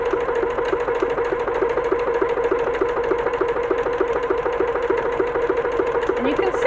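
A sewing machine stitching a decorative stars pattern by itself, with a steady, fast, even mechanical whir and needle rhythm holding close and constant throughout.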